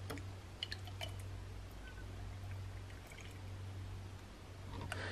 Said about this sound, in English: we're going to start off by putting the 100 millilitres of milk up to that minimum line